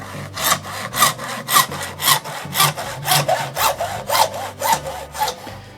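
Hand saw cutting through a cartridge holder support, about a dozen rhythmic back-and-forth rasping strokes at an even pace, close and clear with no voices.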